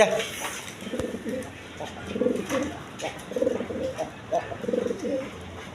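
A pair of Khaki pigeons coo repeatedly in low, soft, rolling phrases about once a second, close by, over a faint background hum.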